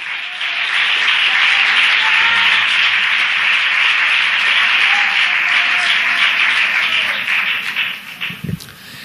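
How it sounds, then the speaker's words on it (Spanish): A church congregation applauds steadily and loudly for several seconds, a dense sustained wash of clapping that thins out near the end. "Dale un fuerte aplauso al Señor."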